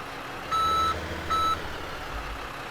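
A Volvo dump truck backing up in Farming Simulator 17 gives two evenly spaced reversing beeps over a low, steady engine rumble.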